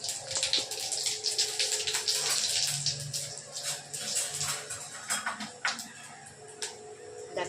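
Spice paste dropped into hot oil for a paneer dish sizzles and crackles loudly close by, a dense bright hiss that gradually settles with sharp pops, with no talking over it.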